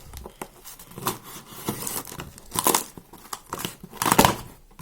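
Someone opens a cardboard box parcel sealed with lots of tape, packed with toy boxes: bursts of crinkling, tearing and crackling tape and packaging in irregular handling sounds, fairly close, without talk.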